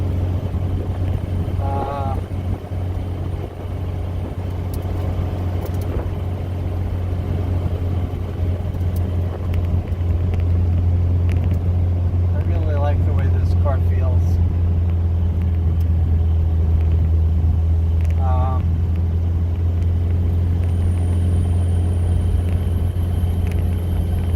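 A 1974 Alfa Romeo engine running steadily at about 2,800 RPM during a test drive at around 30 miles an hour, a constant low droning hum heard from inside the car, with a few brief faint squeaks.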